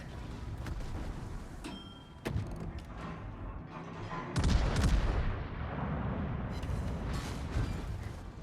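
Naval gunfire from a French battleship, Dunkerque, in a warship video game, with booming main gun salvos and a big rumbling blast midway, then a sustained roar of shots and impacts.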